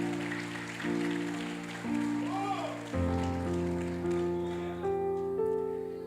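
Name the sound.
congregation applauding in church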